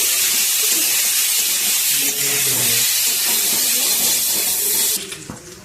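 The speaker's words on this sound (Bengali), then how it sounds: "চিকেনটা ভেজে নেবো" Chicken frying in a pan for mixed fried rice gives a dense, even sizzling hiss that holds strong, then drops away sharply near the end.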